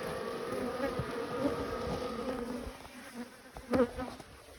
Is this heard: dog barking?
no